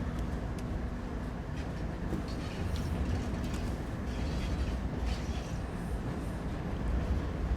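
A GE Gevo diesel locomotive idles in Train Sim World 3 on Cajon Pass, a steady low rumbling drone with faint clicks and rattles over it, continuous and fairly close.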